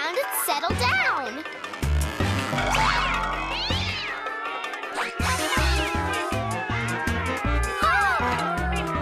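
Cartoon cats from a children's animated show meow repeatedly in bright, bouncy calls, mixed with springy boing effects and lively music throughout.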